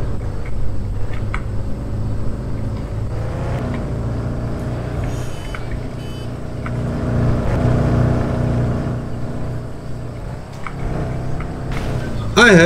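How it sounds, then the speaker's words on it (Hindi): Car engine in the video game Car for Sale, idling and then driving with rising and falling engine drone, steady and fairly loud throughout, with a few brief clicks. "गाड़ी स्टार्ट करते हैं"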